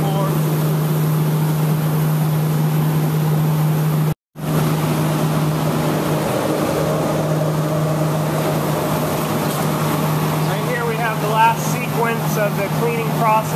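Seed cleaning machinery with seed rollers runs on a seed farm, a steady loud mechanical drone with a constant low hum, briefly cut out once, while a voice talks over it.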